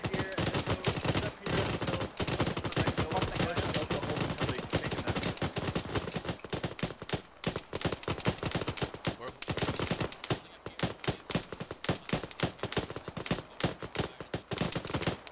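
Nearly constant automatic and rifle gunfire in an ArmA combat battle, a dense rapid stream of sharp shots that stays loud throughout, with faint voices underneath.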